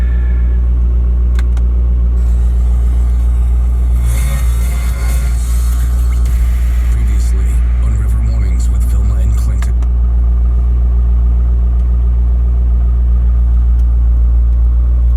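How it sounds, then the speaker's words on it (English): The engine of a 2004 Corvette idles in a low, steady, loud rumble that continues throughout, with someone talking over it and some extra rustling partway through. "car's running nicely."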